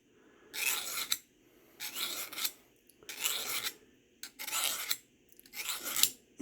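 A hand file rasps along the edge of an Old Hickory knife blade in five steady, evenly spaced strokes, each a loud, close, gritty scrape followed by a brief pause.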